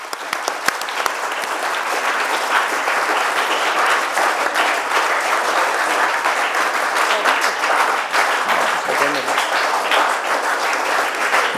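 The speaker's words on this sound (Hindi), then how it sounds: "एक बार और ताली।" Sustained, dense audience applause at a winner announcement for a social science debate, loud and continuous from start to finish, with a faint voice briefly audible underneath.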